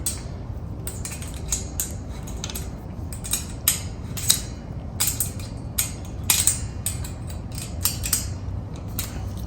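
A wrench turns a bolt while a storage rack is being assembled, giving a series of close, sharp metallic clicks and ratcheting creaks in an irregular rhythm, with no voices.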